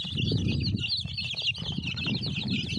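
Hens and their chicks cluck and peep close by while being fed, with high chirping running throughout over low clucking and rustling.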